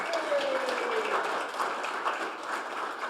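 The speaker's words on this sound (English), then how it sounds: "Round of applause for Eric." A team meeting audience claps to welcome a new team member, a short, moderate burst of scattered clapping with a faint background tone.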